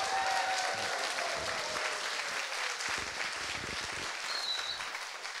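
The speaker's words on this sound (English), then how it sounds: "Let's give this wonderful senator a round of applause." Audience applauding a state senator at a community forum: steady, dense clapping that stays loud and even for several seconds before thinning slightly at the end.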